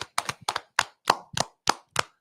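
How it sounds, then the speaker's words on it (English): A small group claps in a church setting, with about eight loose, separate claps in an uneven rhythm. The claps are close and fairly loud, and there is no talk between them. "Let's clap it up for the Most High."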